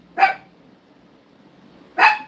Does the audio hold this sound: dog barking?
yes